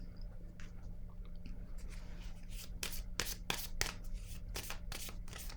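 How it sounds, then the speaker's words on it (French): Tarot cards handled on a table during a reading: several soft, quick papery taps and slides bunched near the middle and end, close by over a quiet steady hum. "Je vais déposer une carte sur celle-ci."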